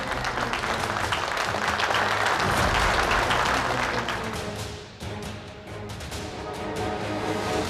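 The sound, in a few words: audience applause welcoming a kabaddi team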